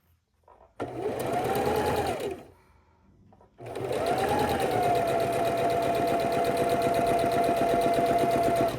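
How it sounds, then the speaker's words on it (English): Sewing machine stitching a quarter-inch seam on a flying geese quilt block, a steady mechanical whir in two bursts with a short pause between, then running continuously, close and clear. "we're going to stitch a 1/4 inch on either side of this line"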